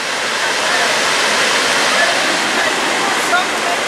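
A stream rushes loudly and close by along a trail, making a steady, unbroken roar of water with no pauses.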